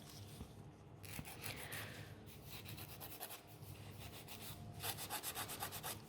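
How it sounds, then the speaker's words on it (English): A nail file rasps back and forth across a natural fingernail in close, quiet strokes, a soft scratchy rubbing that repeats in short bursts with brief pauses between them. "file nice and straight, and then once I've got it straight, I can round off those corners"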